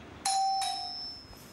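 A doorbell rings clearly in a home, giving a bright two-tone chime whose second note lingers and fades.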